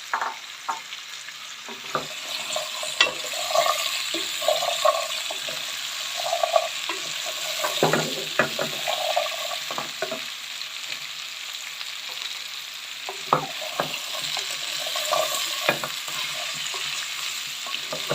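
Sliced carrots frying in ghee in a pan, a steady close sizzle broken by repeated clattering scrapes of a spoon stirring, with no talking.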